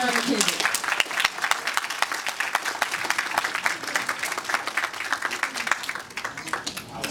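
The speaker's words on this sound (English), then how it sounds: "if you could give a round of applause for our writer, creator, and founder, Mr. John McKissick" A crowd applauds a writer and founder at a premiere event, a brisk, dense patter of hand claps at close-to-middle distance with crisp individual claps audible, continuing steadily throughout.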